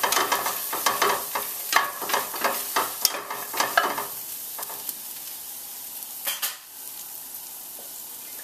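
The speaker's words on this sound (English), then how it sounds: "And then you just stir it around for a minute or two." Nuts and raisins stirred in a frying pan, with rapid clattering spatula scrapes and taps over a light sizzle for several seconds, then a few sparse strokes as the hiss carries on quietly.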